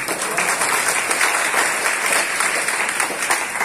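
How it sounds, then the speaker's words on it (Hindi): A university audience claps loudly after the vice chancellor's remark, a dense, steady burst of applause from a large crowd, close and continuous. "आप लोगों को ये सेंटेंस बहुत अच्छा लगा और आप लोगों ने बहुत तालियां बजाई"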